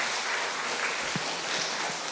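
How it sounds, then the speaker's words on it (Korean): A church congregation at a Sunday service applauds in a steady, full wash of clapping that fills the room, with no gaps or distinct voices. "우리 박수로 환영하겠습니다"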